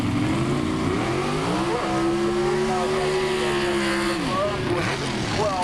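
Drag race cars launch at the 1985 IHRA Summer Nationals, a loud sustained engine roar with rising revs that drops off near the end, under continuous crowd and announcer talk.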